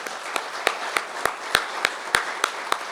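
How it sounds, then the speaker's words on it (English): An audience at a Global Recycling Day event claps in sharp, evenly spaced bursts, loud and near, with no talking. "applause, please."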